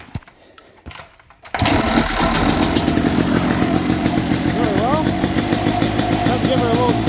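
A motorcycle engine, primed with brake cleaner after sitting over the winter, cranks briefly after a quiet start, then catches and settles into a loud, steady idle that runs close by for several seconds.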